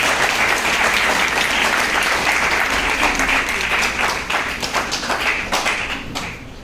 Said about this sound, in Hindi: तो एक बार प्रचार सर के लिए जोरदार ताली होगी